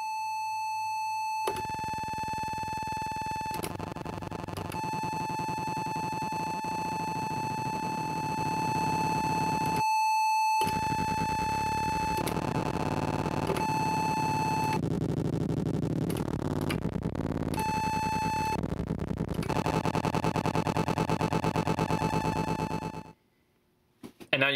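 Feedback tones from a no-input mixing board with channels added via pre-fader solos: steady sine-like squeals and droning hums layer and switch abruptly, growing denser and harsher before cutting to near silence at the end.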